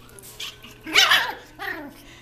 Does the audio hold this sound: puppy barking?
yes